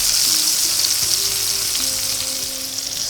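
Smoked sausages brown in hot skillet grease with a loud, dense, continuous sizzle and crackle, close up and with no voices.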